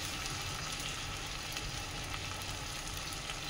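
Spices sizzle steadily in a hot frying pan while being stirred for a Bengali yogurt chili pickle, a continuous close frying hiss without pause.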